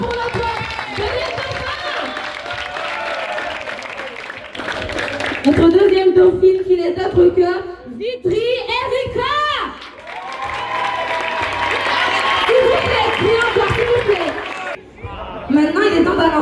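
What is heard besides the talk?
applause for the runners-up at a school ambassador election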